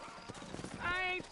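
Horse hooves clip-clopping in the Western video game Red Dead Redemption, a few quick soft hoof knocks followed by a short whinny, faint and brief under a man's speech.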